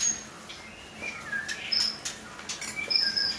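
Pet songbirds chirp and whistle outdoors on a morning outing, several short bright calls scattered irregularly over a soft background hum, moderately near and clear without any talk.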